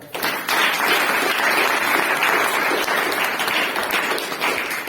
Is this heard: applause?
yes